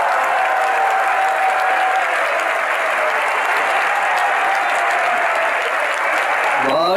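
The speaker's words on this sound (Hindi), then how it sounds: "यदि आप लोगों को अच्छा लग रहा है तो ताली बजाइए" An audience at a Jain acharya's sermon during the Kundalpur Panchkalyanak festival claps in loud, sustained applause, a dense even patter of many hands lasting several seconds.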